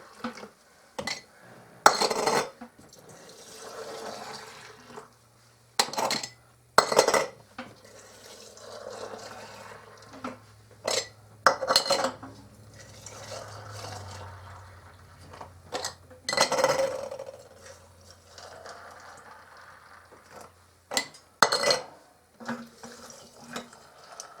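Boiling water pours into glass canning jars of garbanzo beans in several separate bursts, with clinks of glass and utensils in between, close by in a quiet kitchen.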